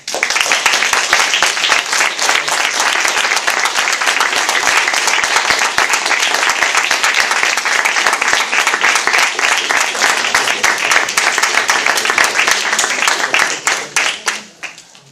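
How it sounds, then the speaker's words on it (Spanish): An audience at a literature debate on journalism and television gives the speakers a loud, dense round of applause that runs unbroken for about fourteen seconds before quickly dying away. "yo creo que tenemos que agradecer a los ponentes con un aplauso enorme."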